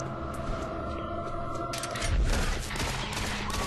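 Gunfire from a zombie enemy in the video game Doom 3, a burst of shots with a low thump near the middle, set against a steady droning game ambience.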